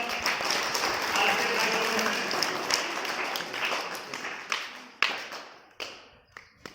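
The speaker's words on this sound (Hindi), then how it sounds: "गुंगराम जी का भी तालियों से स्वागत करूंगा" Clapping from a school gathering at a mega parent-teacher meeting welcomes a guest, a dense patter that thins into scattered claps and fades out near the end.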